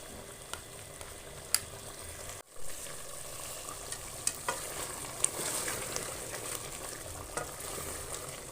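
Masala for chicken qorma, with black and green cardamom and cloves, sizzles steadily in a pan while a utensil stirs and taps against the metal now and then, with no talk.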